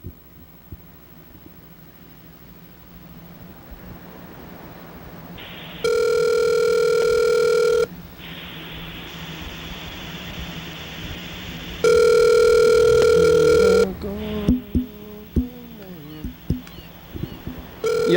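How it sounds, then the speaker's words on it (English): Telephone call tones sound in two steady, loud blocks of a couple of seconds each, separated by quieter background, with brief voice-like sounds and clicks after the second tone, consistent with an automated voicemail forwarding message. "Your call has been forwarded to an automatic voice message system."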